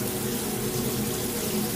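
A shower runs steadily in a bathroom, water pouring in an even, unbroken hiss at moderate distance with no voices.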